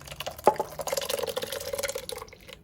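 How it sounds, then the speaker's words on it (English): Cheese curds and whey pour from a pot into cheesecloth, a steady splashing trickle with drips that starts with a bump and tapers off near the end. "let's just pour the rest in like this"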